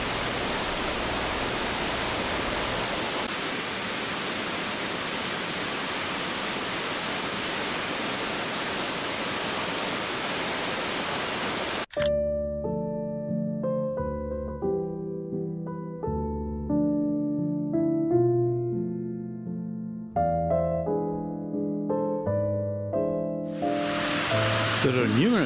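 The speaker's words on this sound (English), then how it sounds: "There are numerous little cascades from this fall." Colzium Burn Falls sends up a steady, broad rushing roar of cascading water that fills the first half, then cuts off abruptly and music takes over.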